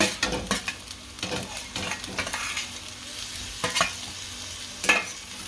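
Cabbage, carrot and capsicum being stir-fried for veg hakka noodles, a steady sizzle broken by repeated scraping and tossing strokes of a spatula against the pan, close and moderately loud.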